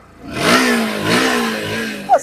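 A brand-new Bajaj Pulsar NS 125 motorcycle at a bike showroom starts and revs in two or three rising bursts nearby, followed by a short sharp knock at the end.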